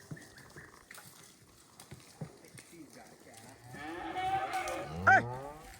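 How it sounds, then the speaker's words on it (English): Cattle being moved during a drought on open range at Bears Ears call out, with one long, loud moo building near the end over faint rustling and hoof sounds. "Make sure we're not separating the cow and calf right here."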